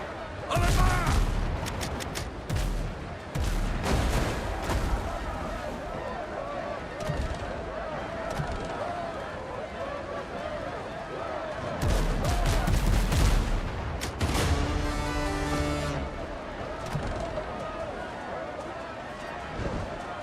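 Ship cannons fire in the Windrose pirate video game as booming volleys and crackling shots ring out over sea and battle ambience, with voices calling out between blasts.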